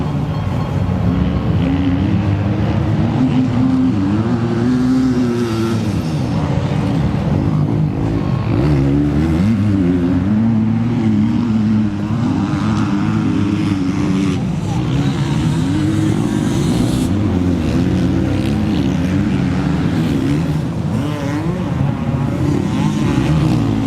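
Two-stroke motocross bikes race at an MX Open round at Cessnock, their engines a continuous rising and falling rasp of revving across a hilly track, heard under steady commentary talk throughout.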